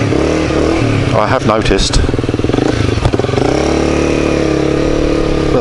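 A Honda CBR250R motorcycle engine runs close to the microphone with a throaty, pulsing drone and brief revving swells, while someone talks over it.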